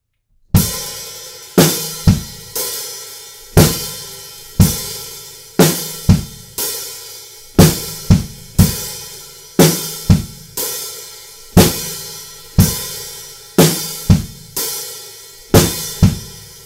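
Drum kit playing the chorus beat of a song, with loud, punchy kick and snare hits and crashing cymbals in a steady, spacious rock groove heard alone and up close.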